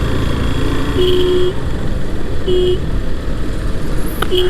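A vehicle horn on a road toots in three short bursts, one longer and two brief, over a loud steady rumble of traffic and engine noise.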